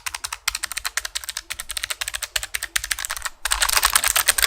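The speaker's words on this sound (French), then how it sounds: "Mon clavier c'est le fameux Logitech G915 en version TKL équipé de gel clicky." Rapid typing on a Logitech G915 TKL low-profile mechanical keyboard with clicky switches, crisp close-up keystrokes in quick irregular bursts with brief pauses, then a faster, denser flurry toward the end.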